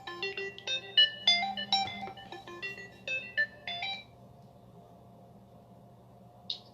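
A phone ringtone plays close by in a quick melodic pattern of bright repeated tones for about four seconds, then stops, leaving a low steady hum and one brief high chirp near the end.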